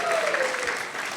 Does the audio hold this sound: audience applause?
yes